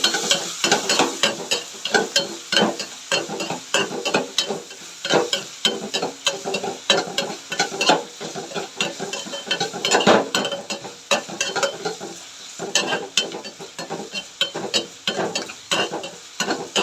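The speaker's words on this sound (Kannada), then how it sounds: "ಇದನ್ನು ನೀಟಾಗಿ ಮಿಕ್ಸ್ ಮಾಡ್ಕೊಂಡು ಫ್ರೈ ಮಾಡಿ." Eggs frying with turmeric and salt in a pan while a utensil stirs them, giving repeated scraping and clinking strokes over a soft, steady sizzle.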